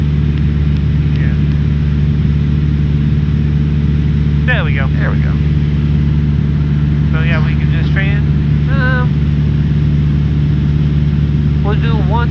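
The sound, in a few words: Cessna Skyhawk light aircraft engine heard from the cockpit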